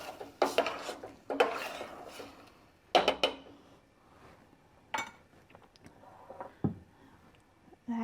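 Beef broth poured slowly into a pot of gnocchi and spicy meatball soup and stirred, giving intermittent clanks and scrapes of a utensil against the pot in short bursts, close up with no talking.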